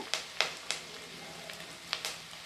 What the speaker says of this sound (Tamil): வரமிளகா ரெண்டு சேர்த்துக்கிட்டேன் கூடவே கருவேப்பில் சேர்த்துக்கலாம் பார்த்திங்கன்னா இது வதங்கட்டும்